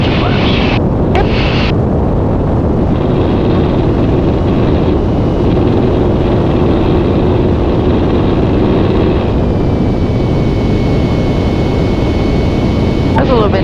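A small airplane engine roars steadily at full power during a Piper flight lesson, a loud continuous drone that fills the cabin throughout with no pauses.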